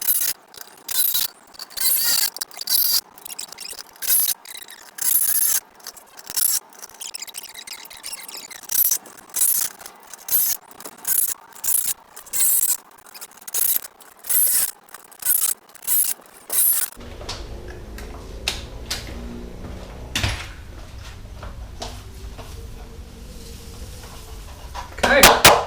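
A drill boring holes through pipe for a DIY hydroponic garden tower, sounding as a long series of short, evenly spaced bursts before giving way to a steadier, duller background noise.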